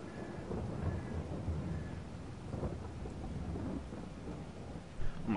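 Soft rain hisses steadily through a thunderstorm on farmland at corn harvest time, with low, distant thunder rumbling beneath it, faint overall and with no talking.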